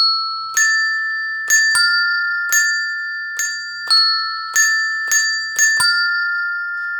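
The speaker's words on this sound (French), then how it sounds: "Il s'agit des cloches, et moi je les adore." Handbells are struck one at a time in a slow, irregular sequence, about nine clear ringing tones, each decaying into the next in a quiet room with no voices.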